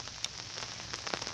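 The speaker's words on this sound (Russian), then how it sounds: "даже несмотря на такую дождливую погоду" Steady rain patters on an open umbrella overhead in wet weather, a soft, even hiss of drops with a few sharper taps, fairly quiet and close, with no voices.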